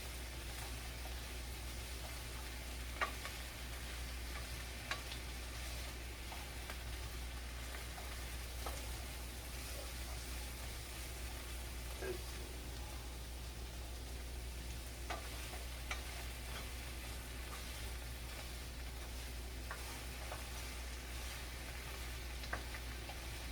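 Brussels sprouts caramelize with sugar in a pan, a faint steady sizzle with occasional soft ticks and scrapes as they are stirred, no voices.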